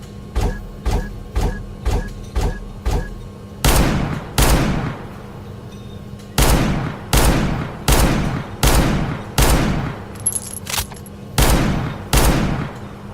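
Gunfire aimed at targets in a room in an animated scene, sharp shots fired in quick regular bursts. A run of light single shots gives way to heavier, booming volleys that come in grouped rhythmic clusters, loud and close.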